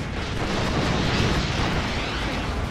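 A Beaufighter's rocket strike in the Steel Division 2 World War II strategy game: a dense, sustained roar of explosions that blends into one steady rumble, loud and even throughout.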